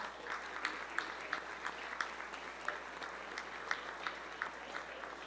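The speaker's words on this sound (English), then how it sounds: "let's give them a round of applause" An audience claps a round of applause for event volunteers at a town festival costume contest, steady dense clapping with a few sharper claps standing out, moderately distant and without talk.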